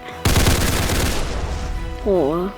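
A loud burst of rapid automatic gunfire in the Roblox game Darkdriver rattles for about a second and then tails off, followed by a brief warbling electronic tone.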